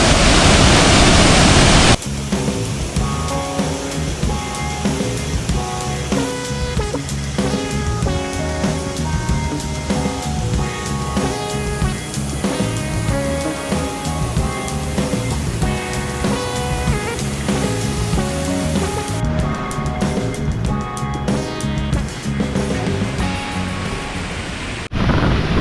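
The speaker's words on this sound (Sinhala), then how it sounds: "මේ වගේ තට්ටු දෙකකට තමයි ඇල්ල කඩාගෙන හැලෙන්නේ" Kadiyanlena waterfall near Nawalapitiya pours down two tiers, a loud steady rushing roar with no talk that holds for the whole stretch after a brief opening burst.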